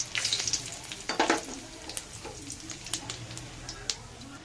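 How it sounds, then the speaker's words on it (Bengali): Bay leaves and cumin seeds hit hot oil for a curry tempering, giving a close, bright sizzle with scattered sharp crackles and pops that flare early and then settle into a steady fry. "এবার আমি অ্যাড করে দিচ্ছি যে তেজপাতা আর জিরেটা।"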